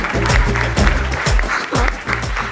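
Audience applause at a Malayalam stand-up comedy show, a dense burst of clapping that is loud and close and fills the whole moment, with some voices mixed in.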